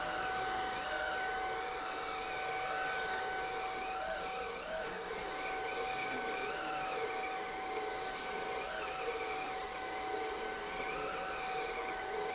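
A Shark pet vacuum cleaner runs with a steady, close motor whine and a pair of sustained tones over the brushroll's rushing air, unbroken and even throughout, with no talking.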